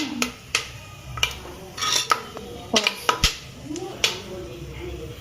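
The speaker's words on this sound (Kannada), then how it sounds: "ಸ್ವಲ್ಪ ಲೋ ಫ್ಲೇಮ್ ಒಳಗೆ ಇಟ್ಕೊಂಡು ಸ್ವಲ್ಪ ಶೇಂಗಾ ಎಲ್ಲ ಫ್ರೈ ಮಾಡ್ಕೊಡಿ" Peanuts fried over a low flame and stirred in a metal pan, with irregular clinks and scrapes of a spoon against the pan scattered over a soft background sizzle, up close.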